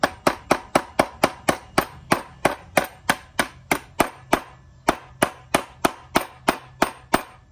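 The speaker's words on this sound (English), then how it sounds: "you'll hear it bottom out. I give it a couple extra taps." Steady metallic tapping on a soft-top hydraulic cylinder of a Mercedes R129 SL500 as it is driven down until it bottoms out: about twenty evenly spaced, sharp, close clanks with no talking.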